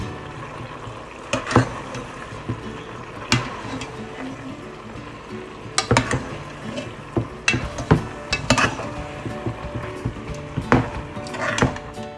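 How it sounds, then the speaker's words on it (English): Macaroni being stirred into a seasoned meat sauce, the spoon scraping and knocking against the pot in irregular strokes, close and fairly loud, with no talking. "So now I'm going to mix them together in the sauce."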